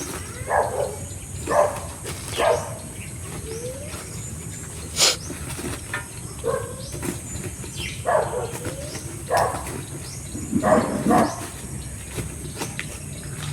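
A dog barks outdoors at a garden house where vegetables such as cucumbers and bitter gourd are planted, giving several sharp bursts spread across the clip over a steady background hum with some bird calls.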